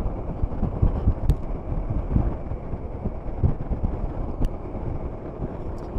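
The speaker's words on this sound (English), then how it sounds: "The wind's blowing." Wind buffets the microphone during a Suzuki Burgman scooter ride high on the Derbyshire moors, a steady low rumbling roar with gusty swells running throughout, no talking.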